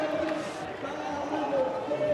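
Hockey crowd at the Men's Champions Trophy in Melbourne cheering after a goal, a steady broad roar of the stands running under an excited commentator's voice throughout.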